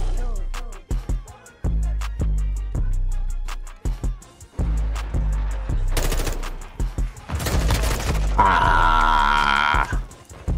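Gunfire in Modern Warfare 2 team deathmatch: loud, close rifle shots in sharp repeated bursts, then rapid automatic fire and a ringing, blaring tail, with a brief grunt amid the shooting.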